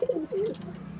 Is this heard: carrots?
no